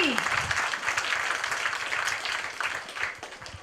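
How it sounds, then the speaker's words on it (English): Students, parents and guests at a primary school awards ceremony clap together in a warm, sustained round of applause, moderately loud and rolling, with some crowd murmur mixed in. "I want you to give yourselves a hearty round of applause"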